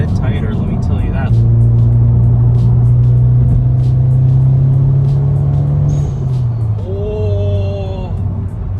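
A VW Jetta fitted with a cheap AliExpress motor mount drives along with a steady, loud low engine drone that shifts pitch partway through, as during a gear change, with a voice talking over it.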